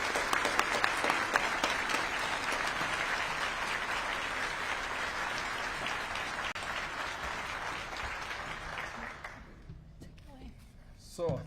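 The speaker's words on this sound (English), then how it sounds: "let's have a big round of applause for all of this year's finalists" An awards-ceremony audience gives sustained, dense applause for small business award finalists, loud and steady for about nine seconds before thinning out and fading away.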